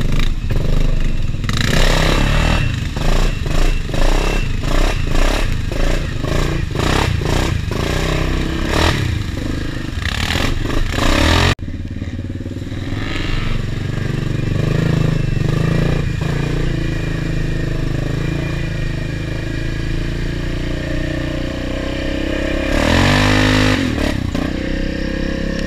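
A cold off-road vehicle engine pushes along a flooded, icy trail, revving loud and close in repeated bursts alongside clattering and scraping from ice and water, then easing into a lower, steadier drone.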